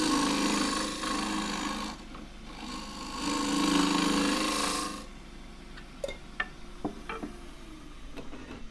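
A traditional gouge cuts wood on a lathe while turning a thin pot, giving a soft rasping hiss in two longer passes, then quieter scattered ticks and light scrapes, fairly close and low in level.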